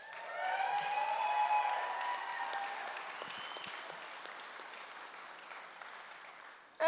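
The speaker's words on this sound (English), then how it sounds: "Come on, clap it up." An audience at a 2025 Cyberspace Master Sergeant release ceremony claps and cheers, with whistles and shouts early on, then the clapping gradually thins and fades.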